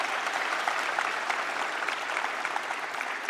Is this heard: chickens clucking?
no